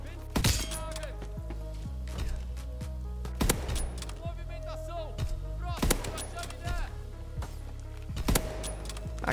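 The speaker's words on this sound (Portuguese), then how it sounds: "Mano, é muita bala nesse sniper, velho." Sniper rifle in a shooter video game firing many shots, sharp loud reports spaced irregularly about a second or two apart, close and punchy, with someone talking over the gunfire.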